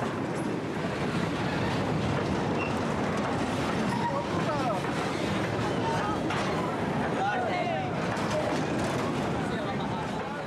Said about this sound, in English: But for those who have never caught a moving train, it's going too fast.